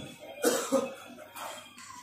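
A person with a cough coughs twice in quick succession, close and fairly loud, followed after a short pause by a softer throat-clearing hack.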